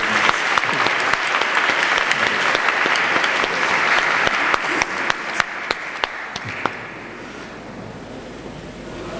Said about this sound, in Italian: Un applauso del primo disegno.